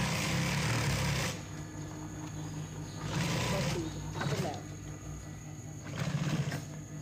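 A sewing machine stitches a rickshaw hood in bursts of whirring, three or four runs separated by short pauses, close and fairly loud in a workshop.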